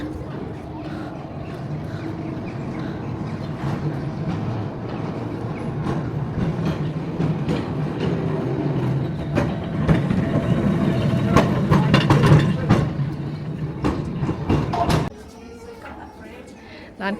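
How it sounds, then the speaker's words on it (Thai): A heritage tram rolls into the high street at Beamish open-air museum, its wheels clattering and rumbling louder as it approaches, with someone talking over the noise before it suddenly drops away. "นี่ รถรางกำลังมาพอดีเลย"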